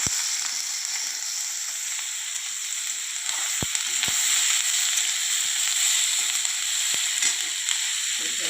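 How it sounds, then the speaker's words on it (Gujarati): Chopped green chillies sizzling in hot oil with ajwain seeds, a loud continuous bright hiss with a few sharp pops and spoon taps. "હવે એની અંદર આપણે કાપેલા લીલા મરચાં નાખી દીધા છે."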